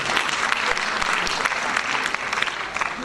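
Sustained applause from an audience at a Hindi literary award ceremony, a dense, even wash of many hands clapping at steady strength for a few seconds.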